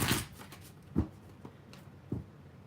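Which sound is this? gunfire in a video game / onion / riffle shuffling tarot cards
riffle shuffling tarot cards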